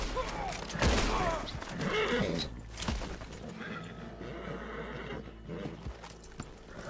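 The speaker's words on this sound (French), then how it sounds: "Un peu là, mon cheval est stressé." A stressed horse in Red Dead Redemption 2 whinnies loudly near the start, with hooves clopping and busy game ambience and distant gunfire-like bangs continuing underneath.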